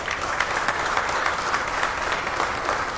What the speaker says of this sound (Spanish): pido un fuerte y caluroso aplauso